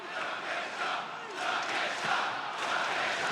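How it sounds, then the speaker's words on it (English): Wrestling fans at AEW Grand Slam in Sydney chant a wrestler's name in a steady, rhythmic roar that fills the arena, loud and continuous, with swelling and dipping waves. "As the crowd chants Takeshita's name here."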